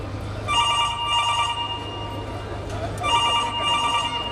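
A telephone rings twice in trilling bursts during a school annual function play scene in which police are being called, with people talking over the room noise.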